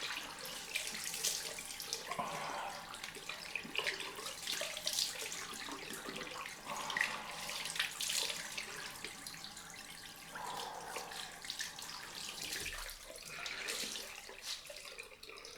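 Cold water runs from a bathroom tap into a sink, a steady broadband gush with small splashes and changes in flow as hands scoop it up to splash a face during a wet shave.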